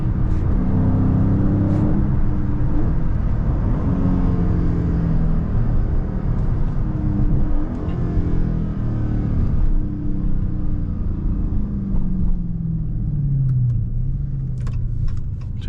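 A Dodge Charger Scat Pack Widebody engine pulls hard under acceleration, a loud continuous rumble and rising rev that stays close and steady for the whole stretch, with no talking over it.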